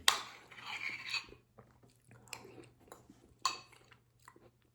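Food being bitten and chewed after a 72-hour fast: a crisp first bite, then several close crunching chews with pauses between them, over a low steady hum and no talking.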